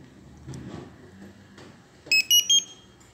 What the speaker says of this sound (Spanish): ese pitido es que ya enciende el equipo como tal